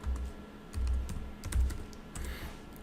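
A Hashcat command is typed on a computer keyboard in a few quick, close, soft keystrokes and taps.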